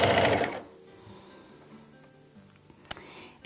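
A sewing machine stitches terry fabric in a short loud run that stops abruptly, followed by quiet handling and a sharp click near the end as the next pulse begins.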